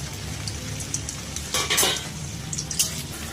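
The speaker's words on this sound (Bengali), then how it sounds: "এবার ঘিয়ের মধ্যে এই পনিরগুলো ভেজে নেব।" Paneer pieces frying in ghee in a hot wok, a steady close sizzle with a louder burst of spitting and stirring in the middle, alone without voices.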